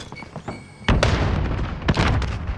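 A frag grenade explodes in the Call of Duty Warzone video game with a loud, close, deep boom, followed by rumbling and a second crack of impact.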